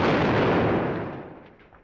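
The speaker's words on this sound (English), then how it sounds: "This is a preliminary barrage" A heavy artillery blast from a preliminary barrage in the wargame Squad Battles Eagles Strike, set at Utah, loud and broad, rumbling then fading over under two seconds.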